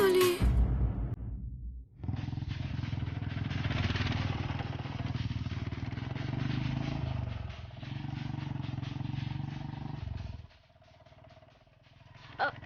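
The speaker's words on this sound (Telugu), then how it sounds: "ముందు వెళ్తున్న ఆ బైక్ ని మిస్ అవ్వకుండా ఫాలో అవ్వు." A motorcycle rides ahead with a steady engine drone lasting several seconds, fading out to near quiet at the end, with a sharp knock at the start.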